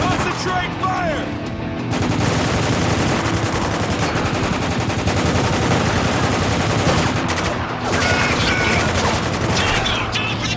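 Gunfire crackles through a video game firefight near cargo containers, with loud, dense bursts of automatic fire and rapid shots that continue almost without a break, under shouted voices.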